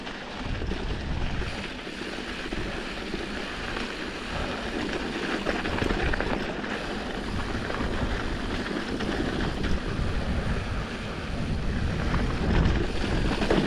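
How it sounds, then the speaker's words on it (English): Steady wind blowing in the desert, a continuous broadband rush buffeting the microphone with mild gusts, filling the whole scene without pause. "I don't know if you can hear the wind or not"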